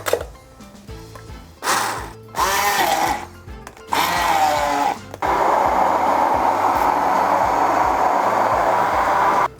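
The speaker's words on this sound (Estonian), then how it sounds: "Blenderdame läbi kõik või sauame." A kitchen blender purees melon gazpacho with mint in several bursts. Short whirring pulses with pauses between them build into one long, loud, steady grinding run that sounds near and alone.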